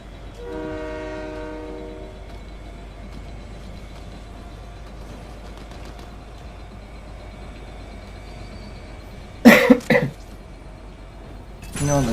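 A train rolls along in the Fortnite video game, a low steady rumble carrying on under brief sharp bursts of in-game sound effects, faint and distant overall.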